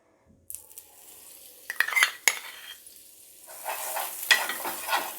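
Butter melting and sizzling on a hot tawa for toasting a street-style veg sandwich, a soft steady frying hiss with a few sharp metallic clinks of a utensil, alone with no talk.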